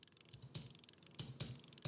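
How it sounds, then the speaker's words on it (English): Gear winding sound effect used as subtle background texture in a GT3 racing-car cinematic: faint mechanical ratcheting clicks with a few louder bursts, at low level throughout. "I just tossed in this gear winding sound because I wanted some kind of like background"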